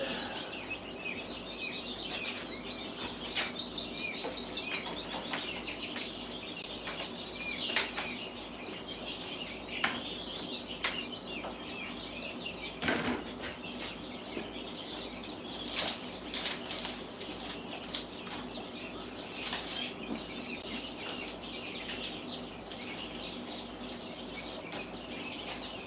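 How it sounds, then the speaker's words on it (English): Baby chicks in a brooder flap their wings and peep in small, scattered bursts, with soft fowl clucking over a steady background hum for the whole stretch. "we're getting ready to look at the baby chicks in just a second"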